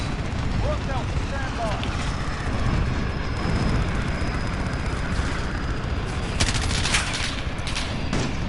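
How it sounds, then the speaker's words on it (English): Rapid gunfire from a fully modded M4 rifle in a video game, a dense ongoing burst of shots that fills the whole stretch, with a few sharper cracks toward the end and a voice talking over it. "This gun seems nice to shoot with. Yeah, it's like a fully modded M4."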